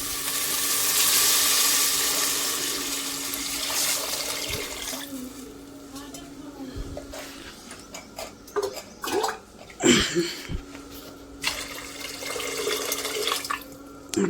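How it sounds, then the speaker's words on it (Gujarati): Water pours into a cooking pot for a homemade soup, a broad gushing splash at first that thins into irregular trickles, splashes and a few clanks of the vessel. "ચલો ગાઈસ, હવે પાણી લઈએ થોડું."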